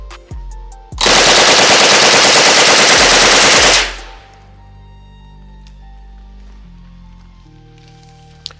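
A Vector UZI submachine gun fires a sustained automatic burst at an outdoor range, loud and close, lasting about three seconds, with scattered tinkling of falling brass and light clicks before and after.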